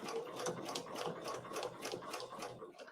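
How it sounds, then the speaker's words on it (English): A sewing machine stitches around a 5-inch Winding Way quilting template, its needle thumping in a fast, even rhythm, close and fairly quiet, running steadily throughout. "So now we'll stitch around."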